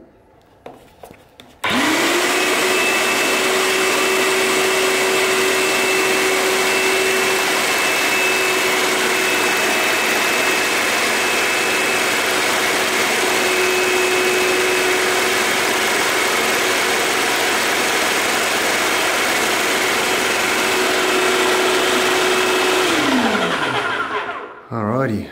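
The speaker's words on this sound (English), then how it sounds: "now let's turn this one here on. We'll put it on number two, and we should hopefully see start sucking paint" A Wagner 350M paint sprayer pump switches on with a click and runs at a steady, loud mechanical whine and buzz for about twenty seconds, then spins down and stops.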